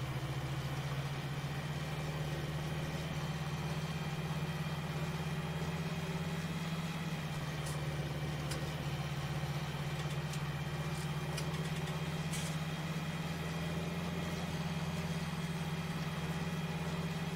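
A tractor engine in Farming Simulator 19 drones steadily at a constant pitch for the whole stretch, a smooth continuous rumble with no talking over it.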